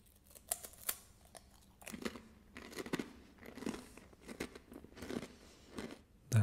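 Someone bites into and chews a crunchy, heavily seasoned tomato and herb snack, producing close, irregular crackling crunches and crisp snaps in quick succession with no talking.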